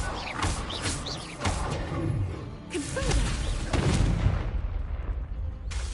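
Repeated Incendio fire spells cast in Hogwarts Legacy at night: a string of loud booming impacts and whooshing bursts, several sharp hits spaced a second or so apart over a steady rumbling game backdrop.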